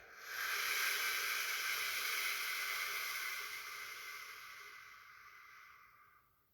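One long, deep breath out through the mouth during meditation, a soft, steady, airy hiss lasting several seconds that slowly fades, heard alone and quiet.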